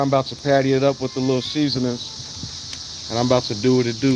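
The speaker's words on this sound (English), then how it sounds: "Sorry about the little noise. It's locusts out here at the time of year." Locusts buzz in a steady high-pitched drone outdoors during an evening cookout, running continuously under someone talking close by.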